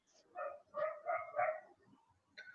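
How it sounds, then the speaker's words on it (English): A neighbor's dog barks in a quick run of four or five yelping barks, fairly close and clear, followed by a short pause and another bark. "The neighbor's dog. Every time they put it out, it barks."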